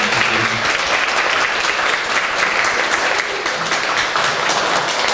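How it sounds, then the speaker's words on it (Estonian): Steady, warm applause from an audience at a music and seniors' day event in Luunja, Estonia, dense clapping sustained throughout at even loudness. "Kas me võime talle teha sooja aplausid?"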